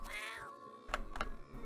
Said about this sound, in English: I do enjoy the cat sound, as the cat gets flung across the room